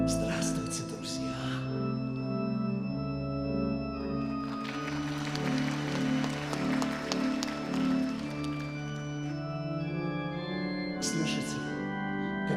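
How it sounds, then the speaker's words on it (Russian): An old barrel organ plays a sustained, droning tune with layered tones and a brighter swell in the middle, steady and moderately loud, at a stage telling of Pushkin's Tale of Tsar Saltan. "Слышите, как звучит эта старинная шарманка?"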